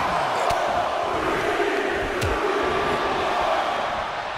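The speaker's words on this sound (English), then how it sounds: "The crowd is counting it down." A wrestling video game crowd chants along to a countdown during a War Games match, a dense, continuous roar of many voices with a few sharp impacts.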